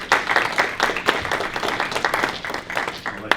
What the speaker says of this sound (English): Like family reunion clap there